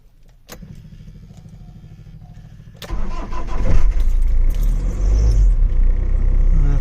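A 1993 Ford Transit camper van cranks with a rapid, even churning, then fires at about three seconds into a loud, steady running rumble, close to the microphone with no talk.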